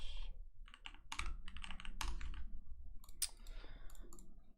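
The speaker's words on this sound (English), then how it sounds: "don't know what I'm typing" Rapid typing on a computer keyboard while working on items in Roblox, with dense bursts of clicking keystrokes and brief pauses, close and fairly loud, no talking.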